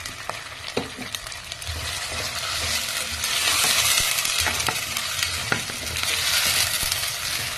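Onion paste sizzles in oil with garlic paste in a pan for a fish kurma, a steady close hiss broken by sharp scrapes and clicks of a stirring spoon, no voices.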